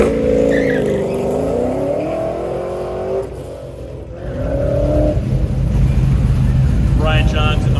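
A blue Camaro accelerates hard at an autocross event, its engine revving and shifting pitch up and down as it passes, with a voice talking over the roar.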